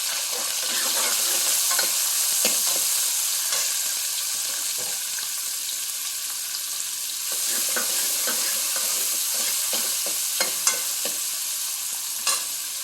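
Chopped onions sautéing in a pan after garlic, while a gravy of dal and brinjal is prepared: a steady close sizzle with occasional scraping stirs, continuous and fairly loud with no talk.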